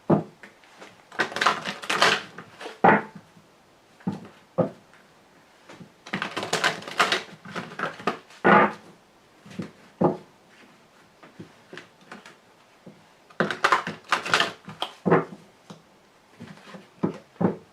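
A heavy Grand Jeu de Mademoiselle Lenormand deck is shuffled up close in three long runs of clattering, slapping card noise, with short knocks and quiet gaps between the bursts and no talking.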